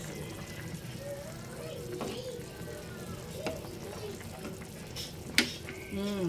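A pot of tinolang manok, chicken soup with sayote, simmers with a soft, low bubbling and gentle sizzle beneath someone talking, with a few small clinks near the end.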